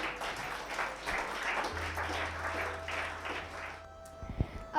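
An audience at a Women's Day honours and award ceremony applauds in a steady, moderately distant burst of clapping that fades out near the end, with a faint low hum underneath.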